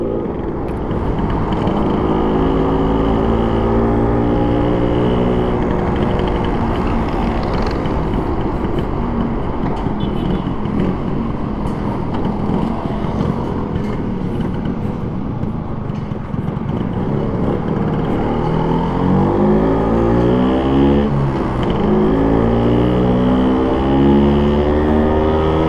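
A 1962 Vespa VBB scooter's two-stroke engine running steadily close by, a loud buzzing idle that rises and falls in pitch with throttle blips, continuous for the whole stretch with no talk.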